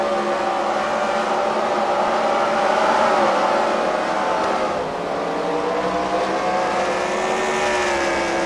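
Race cars howl around a racetrack at a Fight Night event at the Freedom Factory, engines droning loud and continuous with rising and falling pitch as they exit a turn.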